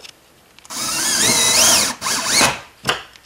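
A power drill drives long steel-plate screws through a metal lighting rail during a ceiling track-light installation, whining steadily with a rising and falling pitch for about two seconds, then giving a short final burst up close.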